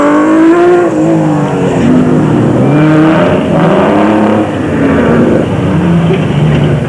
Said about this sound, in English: On board with Kobler and Harrington in the Nissan hardbody Super Truck as they slip and slide their way around the route.